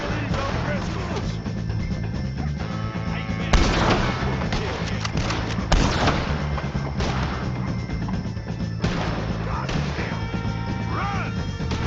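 Gunfire in a Red Dead Redemption 2 shootout against O'Driscolls, with a couple of sharp shots standing out over a dense, loud bed of game noise and music, alongside shouting voices.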